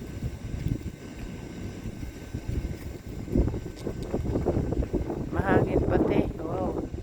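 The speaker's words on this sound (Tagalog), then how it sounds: "Mahangin pati." Wind gusts rumble against the microphone on a cold, slippery winter street, a steady low buffeting with people talking over it.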